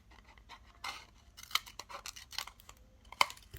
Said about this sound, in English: I always cut the bottom so you have a nice